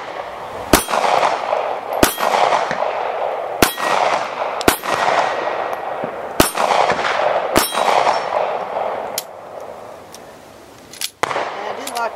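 Ruger LCP pistol fired at steel targets: a loud string of sharp shots about a second apart, each with a bright metallic clang from the struck steel, closing with a few wider-spaced shots.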